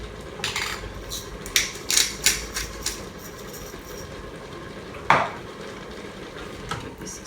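A spoon stirs beef stroganoff in a pot, giving several sharp scraping clinks close by over a low background hum, then one more clink after a pause.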